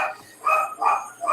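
A dog barking outside in a quick run of three or four yappy barks, rhythmic and fairly close, with no voices over it.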